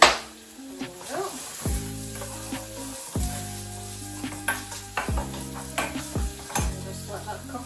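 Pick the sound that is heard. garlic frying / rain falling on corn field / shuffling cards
garlic frying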